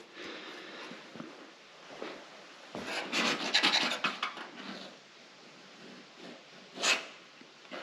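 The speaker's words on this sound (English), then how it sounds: "when it's soft, you can just scrape, you know, take any high spots off pretty easily" Soft body filler being scraped to remove high spots over rust repairs on an XP Falcon, giving quiet rasping strokes that swell into a louder scraping burst midway, with no talking.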